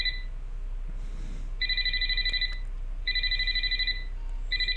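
An electronic telephone rings in the horror video game Graveyard Shift at Freddy's, three clear repeated bursts of a bright two-tone ring over a low steady hum, with no talking.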